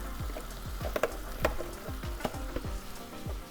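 Beef broth hitting a hot pan coated with bacon and steak drippings sizzles loudly and steadily, with a dense hiss and quick crackling pops throughout.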